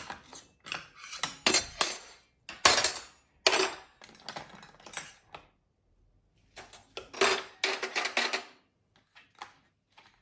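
Spoons and knives being sorted out of a dishwasher make irregular bursts of bright metallic clinks and clatters, close and fairly quiet, with short pauses between handfuls.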